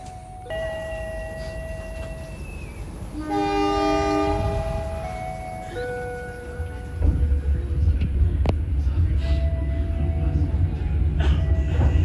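Long-distance passenger train on the Bandung–Surabaya line pulling out of the station, its horn sounding in long sustained tones, then a rising low rumble of the carriages moving off, loud and close.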